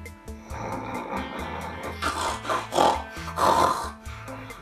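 Snoring-like rasping breaths, loud and repeated in slow bursts over a steady musical background, played during a Star Wars film viewing at home.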